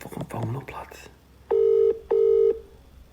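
A telephone call being placed: two loud, steady ringback tone bursts, each about half a second long, follow a few quieter dialing sounds mixed with brief speech at the start.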